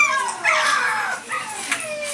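A hunting dog whimpers and whines in a high, wavering cry while searching, close and fairly loud, with no talk over it.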